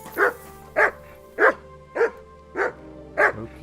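Mutt, a dog in Kingdom Come: Deliverance II, barking six times in an even, spaced rhythm, each bark sharp, clear and close over a quiet game background.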